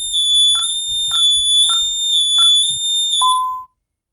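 An ADT SafeWatch Pro 3000 security system sounding its alarm: a loud, piercing electronic tone pulsing in five even beeps before cutting off abruptly into silence.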